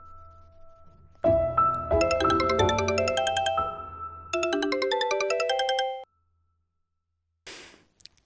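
A phone ringtone plays while a call is placed, a bright melodic chiming tune in two loud bursts with a short gap, then a silent pause and a brief final sound.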